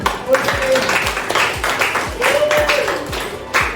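Schoolchildren in a primary school classroom clapping hands in quick rhythmic bursts, close by, with people talking over the claps.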